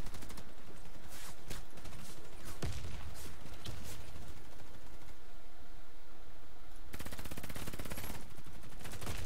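Rapid automatic fire from a bullpup gun in Warface, with dense bursts of shots, a brief lull near the middle, then another long sustained burst near and loud.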